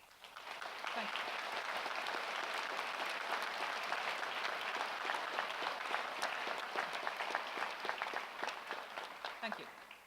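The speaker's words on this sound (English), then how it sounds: "So let's give our Students' Union a clap," Sustained audience applause at a university graduation ceremony, a dense wash of many hands clapping steadily for about ten seconds, fairly loud and even throughout with a few faint voices mixed in.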